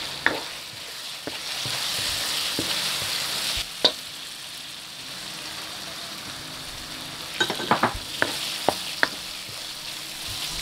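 Toasted smoked fish (tinapa) frying in a pan for pancit, with a steady sizzle broken by sharp scrapes and taps of a spatula stirring, clustered near the end.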